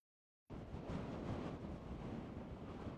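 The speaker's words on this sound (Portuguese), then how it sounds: "É muito vento aqui em cima" Strong wind roaring across an exposed mountain summit at Cerro Catedral near Bariloche, hitting the microphone in a loud, steady, buffeting rush that starts abruptly after a short silence and continues without pause.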